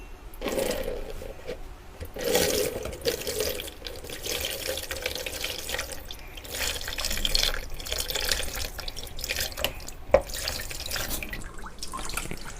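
Water is poured to rinse a freshly dyed item, a steady splashing flow like a running tap that swells and eases in bursts over about twelve seconds.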